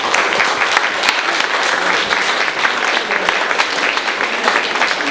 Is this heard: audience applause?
yes